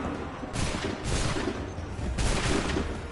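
A volley of gunfire fired on command crashes out in broad, noisy bursts, three rough rolling salvos over a few seconds, loud and close, with no voices.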